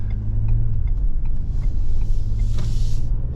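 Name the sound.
Ford Expedition engine accelerating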